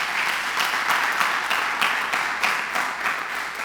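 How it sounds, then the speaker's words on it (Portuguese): A church congregation applauds during a service, dense clapping with a loose pulsing rhythm that sustains evenly from start to end. "Dá um aplauso ao Senhor aí."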